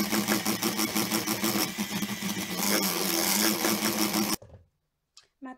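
Tiramisu cream being mixed with a steady, close electric mixer whir that runs for about four seconds before stopping abruptly, followed by faint clinks.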